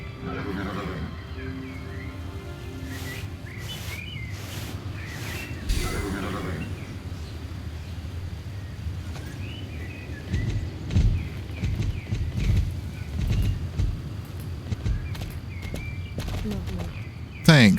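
Horse hoofbeats clopping with occasional neighs in a video game, set against game ambience and birdsong with speech over parts of it.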